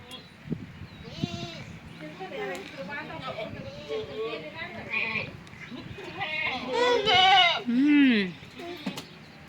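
Goats on a rural farm bleat repeatedly, several wavering calls of varying loudness, the strongest toward the end, mixed with nearby people talking.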